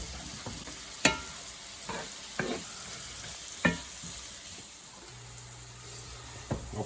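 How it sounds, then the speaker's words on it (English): Vegetables with rosemary, parsley, peppercorns and bay leaves fry quietly in a pan for osso buco, a soft steady sizzle broken by several sharp clinks and scrapes of stirring. "We let these fry for about 3 or 4 minutes."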